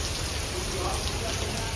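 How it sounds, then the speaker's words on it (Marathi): Steady rain falls in a dense, continuous hiss, close by, with no break in the patter. "बघा पाऊस पडतो"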